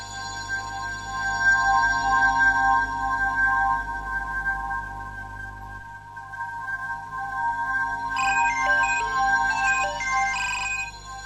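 An incoming-call ringtone plays alone: a steady melodic tone pattern with a low pulsing beat, repeating through the whole stretch before a brighter, busier phrase of chimes comes in near the end.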